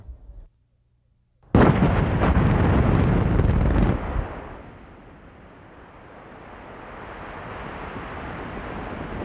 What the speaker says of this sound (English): This was a successful blast, or shot.